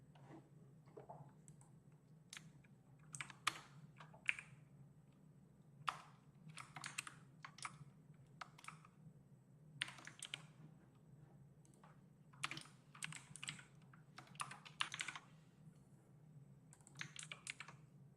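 Keys tapped on a computer keyboard while entering a password, a close, steady run of light clicks in short bursts with brief pauses, no talking.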